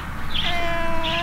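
A cat gives two drawn-out meows, close and clear, each rising and falling, with no talk over them.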